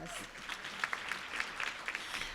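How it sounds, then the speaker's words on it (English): Scattered clapping from an audience, moderate and somewhat distant, with a voice speaking over it. "can you please give him a round of applause?"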